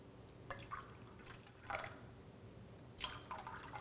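Soda poured in small splashes into several glasses, faint trickling and dripping bursts spaced apart over a low steady background hum.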